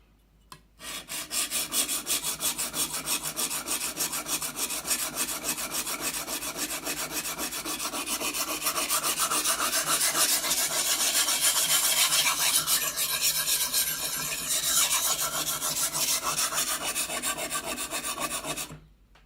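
A knife is sharpened on an extra coarse stone with a continuous, rapid rasping scrape of steel over abrasive grit, close and loud, running steadily after a brief start and stopping at the end.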